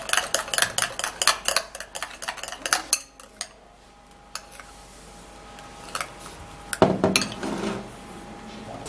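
Utensil scraping and clinking in a bowl while baking soda is stirred into Vaseline, with brisk rhythmic strokes at first, then a quieter pause and a few more clinks near the end.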